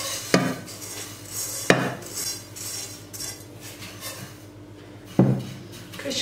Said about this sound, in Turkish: Kaşık yardımıyla yayıyorum